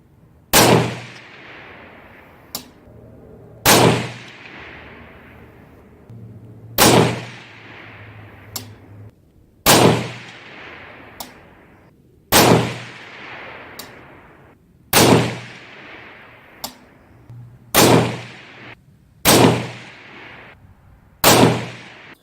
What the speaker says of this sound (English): we're going to shoot our second group of 10 of the Hornady ELD Match 88 grain bullets